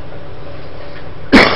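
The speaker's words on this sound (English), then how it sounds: "Ugh, smoker's cough." A single harsh smoker's cough bursts out loud and close at the very end, following a stretch of quiet steady background hum.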